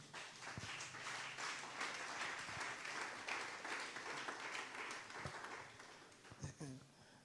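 A church congregation applauds in praise of Jesus with sustained, fairly distant clapping, mixed with voices calling out over it.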